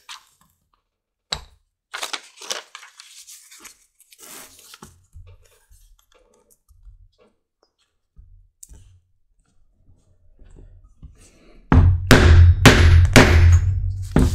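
A half-inch leather hole punch is struck on a leather sheath for a meat cleaver, giving a few sharp clicks and knocks, then a louder burst of repeated hammer blows near the end.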